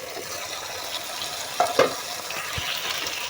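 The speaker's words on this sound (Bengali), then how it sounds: "এবার কষানো হবে, ভালো করে কষিয়ে নেব।" Curry being sautéed and stirred in a pan, a soft steady sizzle with a few brief scrapes and knocks of the spoon partway through.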